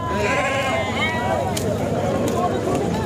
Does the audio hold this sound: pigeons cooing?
no